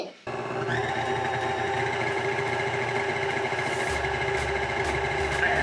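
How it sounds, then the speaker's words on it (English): An electric mixer whisking egg whites at medium speed for a homemade candy bar, a steady close motor whine with a rattling buzz that runs without a break and shifts slightly in pitch partway through. "begin to beat the egg whites on medium speed"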